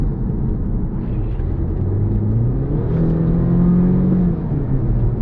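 A BMW 316i in sports mode accelerates from a slower speed, its engine note rising and rumbling steadily from inside the cabin with a mild whir, with no talk over it.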